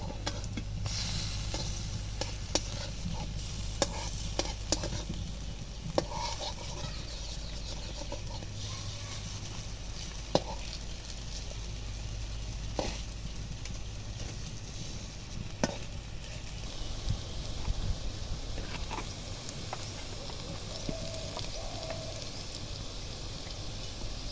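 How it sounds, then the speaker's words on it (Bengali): Taro flower fritters fry in hot oil, giving a soft, steady sizzle with occasional sharp crackles and clicks as pieces are turned, fairly faint and continuous with no talking. "প্রত্যেকটা বড়া দিয়ে ভেজে তুলে নেবো"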